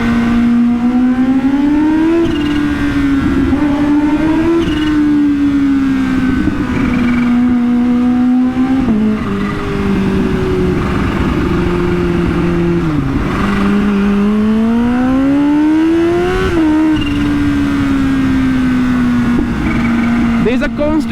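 A Kawasaki Ninja H2 ridden at night on a city canal road, its engine loud and close, the revs climbing and falling under partial throttle while a rider talks over the steady drone.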